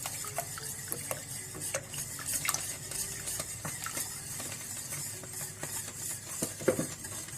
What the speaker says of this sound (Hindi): और साथ साथ आप चम्मच भी चलाते रहें।